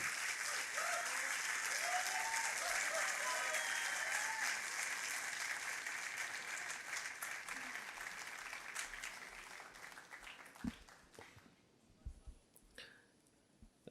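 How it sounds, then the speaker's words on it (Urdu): An audience at an Urdu literary conference session applauds, a full, sustained wash of clapping that gradually fades to scattered claps toward the end. "آپ کی تالیاں اس بات کی گواہی دے رہی ہیں"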